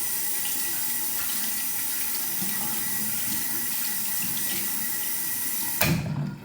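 Tap water runs steadily into a sink as hands are washed after a skincare routine, a continuous close splashing wash that cuts off abruptly near the end.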